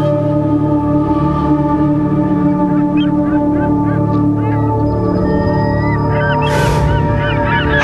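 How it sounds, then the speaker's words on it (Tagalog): A dense chorus of albatross calls, many overlapping honks and cries from a huge colony, loud and continuous with a low droning background. "Sa isla ng Steeple, Jason, narito ang pinakamalaking albatross colony sa buong mundo."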